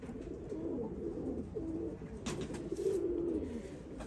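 Saleti Kamanghar pigeons coo softly in repeated low, rolling calls over a steady background hum, with no voices present.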